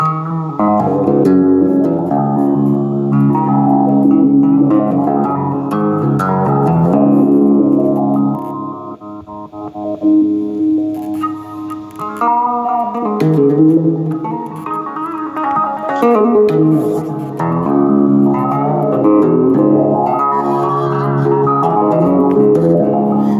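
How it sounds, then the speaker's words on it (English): Electric guitar played through a Fender Mustang 1 V.2 modeling amp with delay and reverb, loud sustained notes and chords with echoing repeats and lingering tails, alone and close. "over here you have your delays and reverb"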